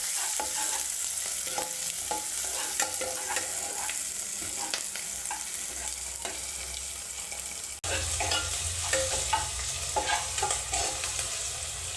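Chicken frying in a pan for a bachelor-style chicken curry while being stirred, with a constant close sizzle broken by scraping stirring strokes and a short pause midway.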